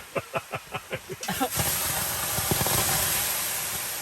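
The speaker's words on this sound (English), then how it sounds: "Breathe that hot steam in." Steam hisses off hot rocks in an outdoor sauna, a broad sustained rush that starts after about a second of low rhythmic pulsing and holds steadily to the end.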